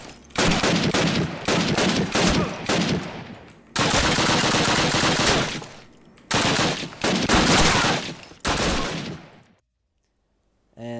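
Machine gun fire in the original Call of Duty game rattles in long loud sustained bursts, separated by brief pauses, ending in silence.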